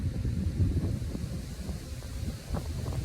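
Gusts of wind buffet the microphone, producing a low, rumbling, uneven roar throughout.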